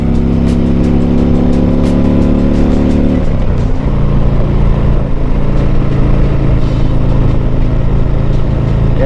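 A 2020 Harley-Davidson Tri Glide Ultra trike engine pulls uphill in third gear, a steady loud rumble with a deep low drone, a brief dip about a third of the way in, then continuous hard pull to the end.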